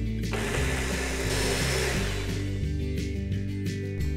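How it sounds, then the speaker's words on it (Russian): A blender whirs loudly and continuously, blending garlic and oil, its motor pitch shifting slightly as it chops and purees, with no talking. "разбиваю все в хлам блендером"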